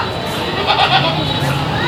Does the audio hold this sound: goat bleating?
yes